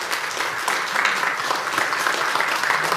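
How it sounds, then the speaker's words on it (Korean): Audience applause at a book concert in a hall, a steady dense wash of many hands clapping throughout, fairly loud and sustained without any talking over it. "박수 한번 해주세요."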